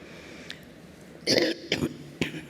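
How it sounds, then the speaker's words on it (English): A few short, dry hay fever coughs close by at a university graduation ceremony, two or three bursts in quick succession over quiet room noise. "That's a hay fever cough,"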